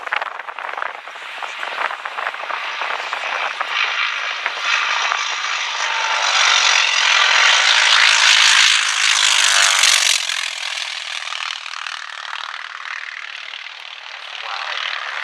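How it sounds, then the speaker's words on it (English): A T-28 Trojan piston aircraft with a 1,425-horsepower radial engine passes at an airshow, its loud buzzing roar building to a peak, then tailing off as it flies by. "Rolling in the mighty T-28 Trojan. Have a listen to the sound of this aircraft as he goes past."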